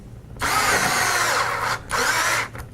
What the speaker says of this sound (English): So just tighten that screw up.